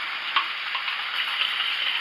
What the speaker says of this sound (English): my gravy is already boiling